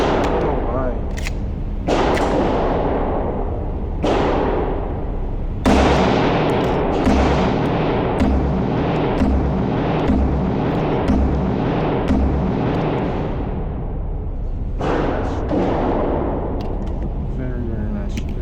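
A Rost Martin RM1C compact pistol fires at a range, a string of loud, sharp, close gunshots with a few spaced shots and a faster run of rapid fire in the middle, each ringing out briefly.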